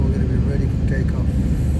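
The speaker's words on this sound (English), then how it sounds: "Now we're going to be ready for takeoff." Inside an airplane at Phuket airport before takeoff, a loud, deep, steady engine rumble fills the cabin for a brief moment while a voice talks over it.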